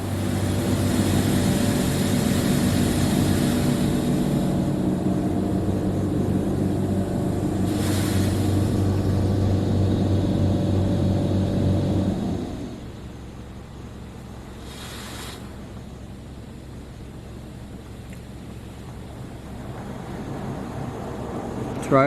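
A Mark VII Profiler automatic car wash machine running inside a wash bay, a loud continuous low mechanical hum and spray that drops to a quieter hiss about halfway through, with a couple of brief whooshes.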